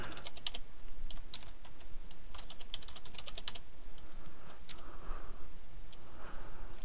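A password being typed on a computer keyboard, with quick bursts of close, crisp key clicks followed by a few slower taps.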